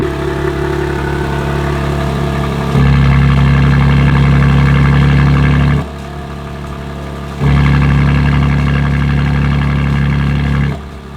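BMW M3/M4 G8x engine idles with a Valvetronic exhaust, a steady low drone that steps up louder and fuller twice as the valves open, then drops back as they close.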